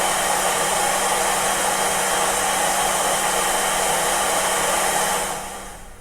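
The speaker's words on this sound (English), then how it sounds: "Vacuum cleaner at operator position," Steady, loud broadband whine of a vacuum cleaner heard from the operator position, running continuously at full power before beginning to fade out near the end.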